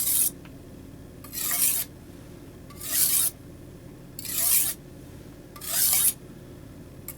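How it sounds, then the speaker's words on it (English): A blade is back-sharpened on a coarse clay brick: four loud, close rasping strokes, evenly spaced about a second and a half apart, with quiet pauses between and no talking. "And now I'll back sharpen that off."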